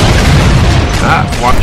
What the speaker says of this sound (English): Now I think I have a fuel rod cannon.